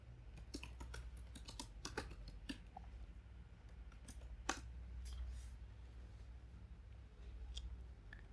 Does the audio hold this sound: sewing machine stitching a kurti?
no